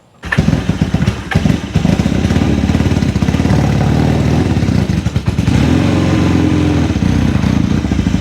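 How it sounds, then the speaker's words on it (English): A 1978 Kawasaki KZ750 motorcycle engine runs loud and close on a test drive, firing up abruptly and then holding a steady, rough, throbbing roar with slight revving changes throughout. "1978 Kawasaki KZ750 test drive"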